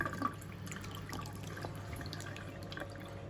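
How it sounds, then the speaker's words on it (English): Household hot and cold water pipes drain with a faint, steady trickle and scattered drips, quiet and continuous, with no voices. "So turn that off and we'll drain the hot and cold water"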